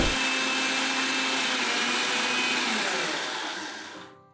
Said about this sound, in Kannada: ಜಾರಿಗೆ 3 ಟೇಬಲ್ ಸ್ಪೂನ್ ಮೆಣಸು ಮತ್ತು 1/4 ಬಟ್ಟಲು ಜೀರಿಗೆ ಹಾಕಿ ಪುಡಿ ಮಾಡಿಕೊಳ್ಳಿ.